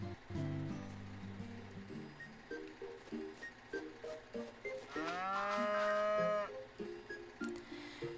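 A cow in the farming game Harvest Moon: The Winds of Anthos gives one long, drawn-out moo in the middle, set over light, bouncy game music playing in short plucked notes.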